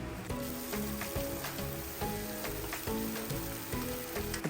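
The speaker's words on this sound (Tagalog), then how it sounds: "magigisa na tayo ng luya, bawang," Ginger, garlic and onion sautéing in a pan for salmon belly sinigang sa miso, a steady close, loud sizzle and crackle running throughout with periodic scraping and stirring knocks, no voices.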